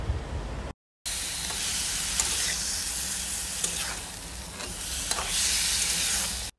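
Chicken liver and gizzard fry in oil in a home kitchen, a loud, close, continuous sizzle and hiss with a brief cut near the start, swelling slightly at moments as the pan is stirred.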